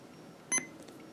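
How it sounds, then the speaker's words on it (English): A single short electronic beep from a Sangean PR-D4W AM/FM weather radio sounds once, brief and fairly quiet against a faint background hiss. "And then it beeps"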